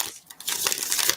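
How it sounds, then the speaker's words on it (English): Tarot cards being shuffled, a close, dry papery riffle and crinkle that runs nearly continuously through the second after a brief quiet gap. "Okay, one more shuffle and then we're pulling."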